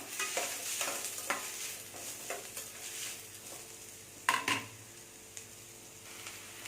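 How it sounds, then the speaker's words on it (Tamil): Two large finely chopped onions sauté in a pan for egg podimas, soft sizzling broken by occasional stirring scrapes and a sharp clink of the spoon against the pan midway, then quieter frying. "ரெண்டு பெரிய வெங்காயம் பொடியாக கட் பண்ணி வச்சுருக்கேன் இதில் சேர்த்தேன் இது நல்லா வதங்கணும்"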